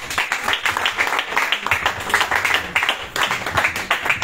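A church congregation applauds the Lord in steady, lively clapping, many hands beating together in a dense rhythmic wash that stays fairly loud throughout, with voices faintly mixed in.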